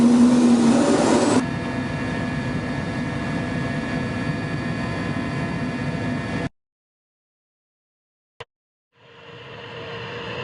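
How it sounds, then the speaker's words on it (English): A Russian Mi-8 helicopter's engine drones steadily and loudly, then cuts to silence, broken by one sharp click before a rushing noise fades back in. "This is the Russian Mi-8 helicopter."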